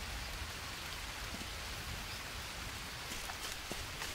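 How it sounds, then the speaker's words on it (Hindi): Steady rain pours over a jungle in the Green Hell survival game, a constant hiss of drops on foliage with faint occasional patters, even and close without any voices. "फिर बारिश हो गई भाई"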